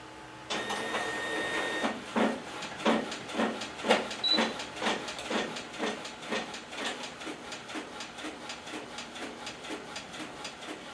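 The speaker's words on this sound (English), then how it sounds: "So that is going to my printer." A home inkjet printer running sublimation transfers, first a steady whirring feed, then a long series of rhythmic mechanical clacks and swishes as the print head shuttles back and forth, close and moderately loud.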